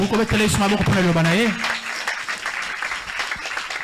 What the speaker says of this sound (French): Tu peux acclamer pour la parole de Dieu.